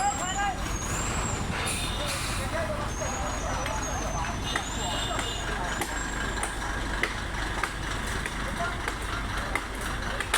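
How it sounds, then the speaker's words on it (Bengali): Trucks and buses sit jammed on the Dhaka–Benapole highway in Narail after a storm toppled a tree, with rumbling engines, air-brake hisses and people talking over the steady traffic noise. "ঢাকা বেনাপোল মহাসড়কে নড়াইল জেলায় মাসিমদিয়া নামক স্থানে হাইওয়ের পরে গাছ ভেঙে পড়ে ব্যাপক যানজট।"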